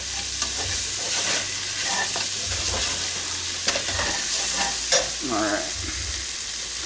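Smoked paprika and other spices for a veggie chili frying in a pan, a steady close sizzle with the scrape and clack of a utensil stirring them around at irregular moments.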